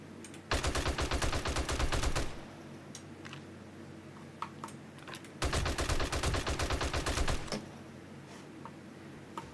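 Rapid automatic gunfire in the zombie survival game 7 Days to Die, two sustained bursts of fast, close shots, each lasting a couple of seconds, separated by a lull with scattered faint clicks and distant pops.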